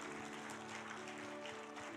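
Church congregation applauding in a steady, dense wash of clapping, moderately loud and continuous, with a faint hum beneath.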